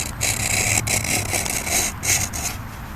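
A carbide sharpener drawn across a machete blade gives repeated rasping, scraping strokes in a steady back-and-forth rhythm, close and fairly loud, with no talking.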